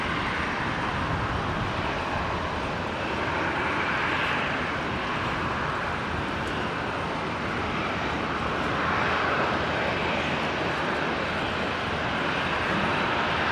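A Boeing 737-800 airliner arriving from Sydney at Brisbane International Airport gives a loud, steady roar of jet engines, broad and continuous throughout with no voices.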